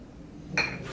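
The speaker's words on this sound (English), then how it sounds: "Mix that bad boy together." A spoon clinks against a bowl while salt and cinnamon are stirred together, a brief bright tap followed by light scraping, faint and close.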